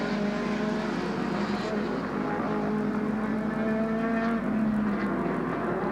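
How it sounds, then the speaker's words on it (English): Lotus Cortina production touring cars race past on a wet circuit at Warwick Farm Raceway in 1969, with a continuous loud engine drone and rising and falling pitch as the cars go by, under a commentator's voice. "he's lapping an identical car of Bob Inglis"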